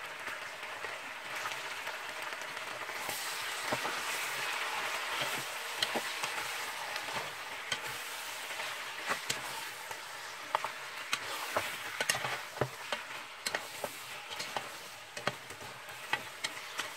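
Halved celery stalks, three of them, sizzle in a pan alongside beef short ribs, a steady bright frying hiss with scattered crackles and pops throughout, no talking.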